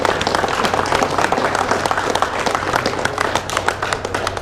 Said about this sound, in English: It's a huge round of applause again for the winner